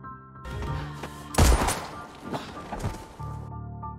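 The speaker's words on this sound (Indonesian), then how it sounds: "dengan kejamnya Andi langsung menembak Neil hingga Neil pun tersungkur" A gunshot in the action film The Old Guard rings out as a sharp loud crack in the middle of a dramatic scene, with a few fainter thuds and hits after it over a background score.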